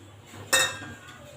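A single sharp metallic clink rings out as semolina is stirred into boiling water in a pot, then fades over a soft background hiss, with no talking.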